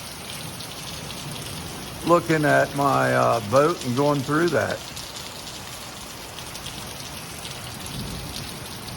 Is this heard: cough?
no